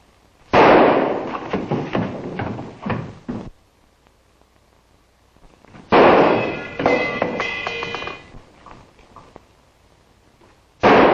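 Gunshots ring out in two long, loud bursts of clustered sharp bangs separated by a few seconds of near quiet, with a third burst just beginning at the end.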